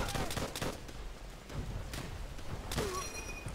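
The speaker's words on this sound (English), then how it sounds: "I burned the bunker as they're lighting me up with a machine gun" Machine gun fire in Call of Duty: World at War, aimed at a player near a burning bunker: scattered bursts and thuds of fairly distant gunfire over a constant battlefield rumble.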